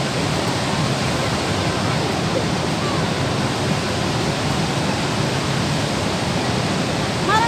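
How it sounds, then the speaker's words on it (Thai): A waterfall pours in a steady, dense roar of falling water, close and continuous with no break, and no voices over it. "เนี่ยค่ะน้ำตกให้ปลา"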